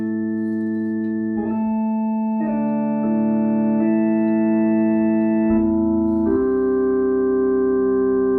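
Five sustained synthesized harmonic tones stack into a steady chord, new tones entering in distinct steps so the blend grows richer and brighter, with no voices over it.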